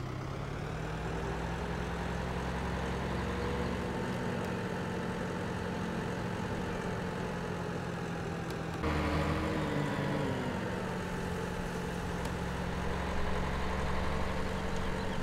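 A John Deere tractor engine in Farming Simulator 17 runs at a steady low drone while driving on a road, continuous and even with a slight shift partway through, with no voices.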